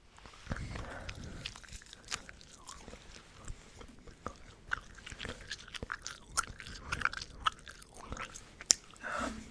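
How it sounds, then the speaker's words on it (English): Gum being chewed close to the microphone as ASMR mouth sounds: soft wet clicks, smacks and small crunches in an uneven, continuous rhythm, quiet and intimate, with no speech. "So I'll do some other mouth sounds too, starting off with gum."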